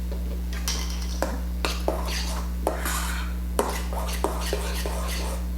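Vanilla being stirred into whipped topping in a bowl, with a utensil tapping and scraping the bowl in a loose rhythm of sharp clinks over a steady low hum.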